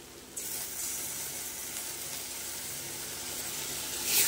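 Tomato paste sizzles in a hot pan with banana stem being fried for thor gobindo, a steady broadband hiss that starts after a brief quiet moment and holds evenly, close and moderately loud.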